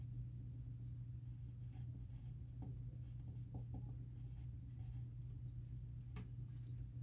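A pen scratches across a paper puzzle sheet from the Nuclear Countdown escape room board game in short, faint strokes and taps over a steady low background hum.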